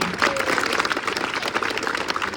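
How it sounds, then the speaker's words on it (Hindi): A crowd applauds steadily, a dense wash of many hands clapping at once, filling the space without pause. "जोरदार ताली बजा दीजिए आप लोग।"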